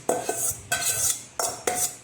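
Fruit cocktail being stirred into a sweet condensed-milk dessert mixture, with four separate bursts of spoon scraping and clinking against a bowl, close and fairly loud, no talking.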